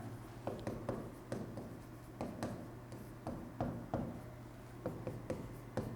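Chalk or a marker writes on a board during a physics lesson on types of electric charge, producing faint, irregular taps and strokes over a low steady hum in a quiet room.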